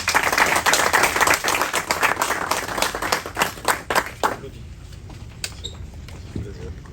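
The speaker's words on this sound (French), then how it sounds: "Très détendu, ils s'applaudissent" Audience at a Paris MMA press conference for Hexagone MMA 13 applauding: dense, fairly loud clapping for about four seconds that thins to scattered individual claps and fades out.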